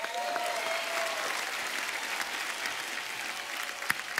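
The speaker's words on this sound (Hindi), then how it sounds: "रकुल के लिए जोरदार तालियां।" A television comedy show's studio audience bursts into loud, sustained applause and cheering that carries on steadily without pause, with a few sharper claps standing out near the end.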